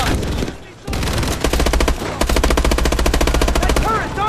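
An armored turret machine gun fires in Call of Duty: Advanced Warfare, long rapid bursts of loud close gunfire after a brief pause.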